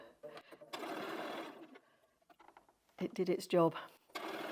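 A sewing machine stitches fabric for a boat-block cushion in short bursts of mechanical whirring, with a person talking over and between the runs.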